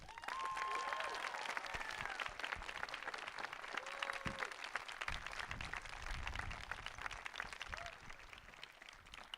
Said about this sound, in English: So please congratulate yourselves by a huge round of applause.